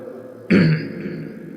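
A single short, forceful cough breaks out close by against a quiet background.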